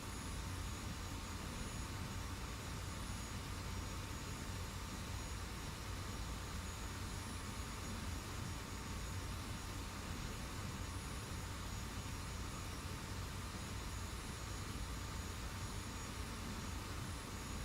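An F-86 jet engine in the DCS flight simulator game drones as a steady, even, broadband roar with a faint high whine, unbroken and alone throughout.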